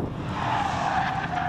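A Nissan GT-R engine screams under hard acceleration on track, a brief, sustained high-pitched whine with a slowly shifting tone, steady and fairly close with no talk.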